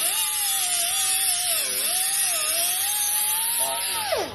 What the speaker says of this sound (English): grab that other little grinder, clean those edges up